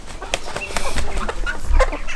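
Chickens clucking in a pen shared with young birds, ducks and golden pheasants: brief, close clucks and chirps that overlap with rustling and a quick flutter of wings.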